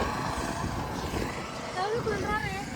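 A boat on the water below the bank, its low motor rumble running steadily under nearby chatter and voices at a temple ritual gathering in North Karnataka.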